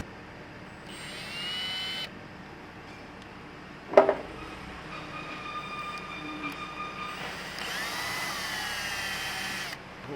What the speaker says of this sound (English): This one's drilling.